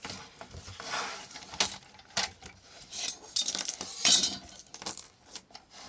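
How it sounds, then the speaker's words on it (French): A paper guillotine cutting sheets of paper for box decoration gives sharp clicks and scraping snaps in irregular bursts, close and fairly quiet, with no talking. "Je vais prendre mon massicot et on va couper tout ça."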